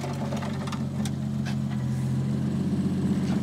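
A 1JZ engine in a Toyota SC300 drift build idles while warming up, giving a steady, close, low mechanical hum with a faint rhythmic pulse throughout.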